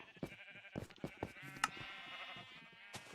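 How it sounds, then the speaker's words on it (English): Sheep bleating in Minecraft, heard as a run of several close, wavering bleats from overlapping animals, moderately loud with a brief pause in the middle. "the sheep are all in there"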